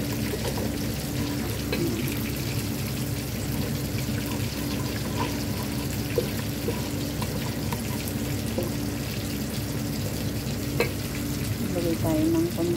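Fish with tomato and tomato paste stirs in a sizzling pan, a steady frying hiss with scraping stir sounds throughout, close and moderately loud.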